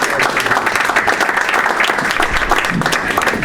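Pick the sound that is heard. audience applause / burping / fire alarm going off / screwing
audience applause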